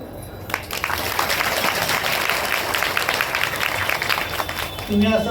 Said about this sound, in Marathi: एकदा महिन्यामध्ये टाळी वाजवा.